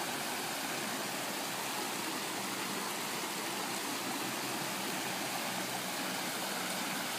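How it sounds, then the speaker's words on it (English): Small waterfalls and a stream pour steadily in an even, broadband rush that holds the same level throughout, with no voices. "There's a bunch of waterfalls, small waterfalls up through there."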